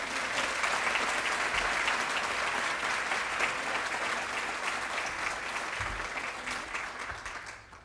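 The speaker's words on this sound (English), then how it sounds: "Again, a quick round of applause for these everyday heroes." Audience applauding at an awards event for teachers, a steady dense wash of clapping that holds for several seconds and then fades out at the end.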